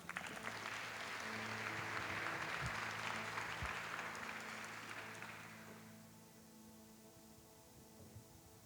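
A church congregation applauds during a Pentecost sermon by a friar, the clapping strong for about five seconds before it fades out over a soft sustained organ-like tone.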